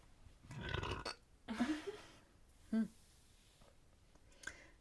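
A podcast host lets out a single burp, faint against the background, among a few other muffled noises near the microphone.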